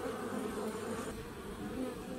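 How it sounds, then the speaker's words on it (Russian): A dense, steady buzz of many honeybees streaming in flight to their hive entrance while carrying nectar, a continuous close drone with no voices. "Вот эти пчелки сплошным потоком. Летят, летят, летят. Носят нектар."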